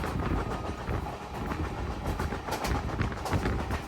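The Mangala Lakshadweep Superfast Express passenger train rumbles along from Kozhikode toward Mumbai, with a steady rattle and rhythmic clatter of wheels on the track, heard from inside.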